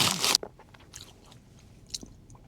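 Someone bites into a pastry sausage roll with a short, loud crunch at the start, close by. Quiet chewing and faint rustling follow, and no one speaks.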